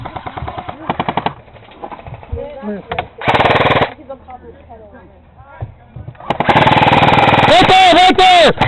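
Airsoft guns fire bursts of rapid automatic suppressing fire during a skirmish over a sandbag bunker, loud rattling volleys near and far with shouting players in between.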